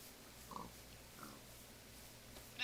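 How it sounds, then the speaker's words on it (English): Pigs in Minecraft give a few faint, short grunting oinks at a distance, spaced apart over a low steady background hum. "Looks like we got ourselves some pigs."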